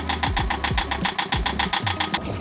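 A Yanmar 2GM20F two-cylinder, 20-horsepower sailboat diesel runs and shakes on its mounts, giving a fast, even chugging beat of close, loud knocks that repeats steadily throughout.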